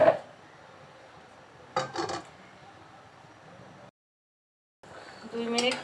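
A lid is set on a pot of mangoes with a little salt boiling on the stove, giving a few short metallic clatters and scrapes close by, then a brief silence before more rattling.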